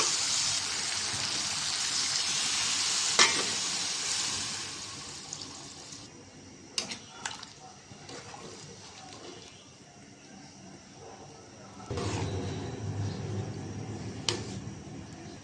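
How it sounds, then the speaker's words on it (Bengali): Broth poured into frying spiced chicken curry in a pan, a steady liquid hiss and splash over sizzling oil, with a louder, fuller pour starting near the end and some faint clatter of utensils. "আমি ঝোল দিয়ে দিব এর সাথে এখন"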